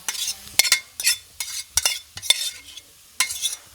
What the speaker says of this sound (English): So now I'm just going to throw the spinach in.